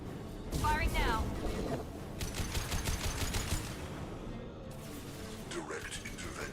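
Video game gunfire rattles in rapid, rhythmic automatic bursts under a talking voice, with mechanical clatter and background game noise throughout.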